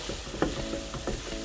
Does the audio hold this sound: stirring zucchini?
yes